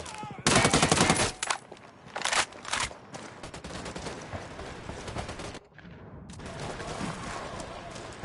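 Rapid automatic gunfire crackles in bursts during a tactical military shooter game, loud and close at first, then continuing as scattered volleys under background game sound.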